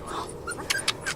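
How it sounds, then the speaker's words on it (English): Hairy, fluffy puppies whimper in short thin squeaks and a few yips, several brief high cries close by against a faint background. "Those are some hairy puppies."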